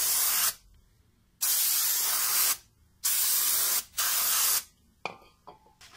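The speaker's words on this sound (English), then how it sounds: "I'm gonna go ahead and spray from the top" Brake cleaner sprays from an aerosol can onto the rear brakes of a Ford Mustang in a garage, coming as four long loud hissing bursts with short pauses between them and a brief sputter at the end.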